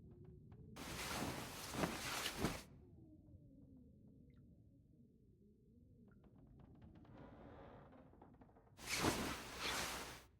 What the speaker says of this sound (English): I hear wind outside.